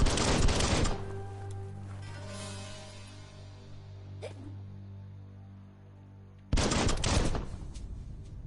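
Gun in the video game Biomutant firing two dense bursts of rapid shots, one at the start and another after about six seconds, with a steady droning game hum in between.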